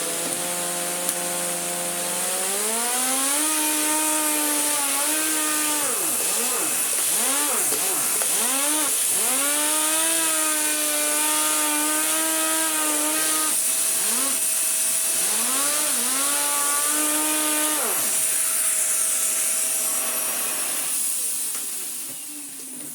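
A vacuum cleaner runs on a hard laminate floor with a loud, whining motor tone that repeatedly swoops up and down in pitch as it moves, then winds down near the end.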